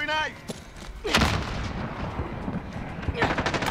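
A grenade blast and gunfire in the video game Modern Warfare: a sharp explosion followed by rolling boom and crackling shots, with a short burst of game voice chatter at the start.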